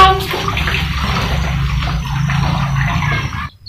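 A small child sits in warm bath water in a home tub, with steady sloshing and splashing water close by, fairly loud and continuous, cutting off abruptly at the end.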